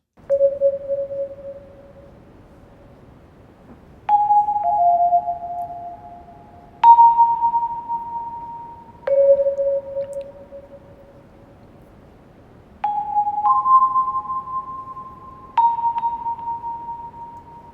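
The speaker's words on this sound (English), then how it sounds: "an extra layer in the intro is this little synth sound" A slow synth melody of clean, sustained tones steps between a few pitches, each note ringing out for a second or two, with nothing else playing.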